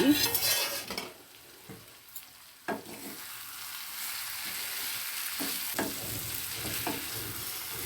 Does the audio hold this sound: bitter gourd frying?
yes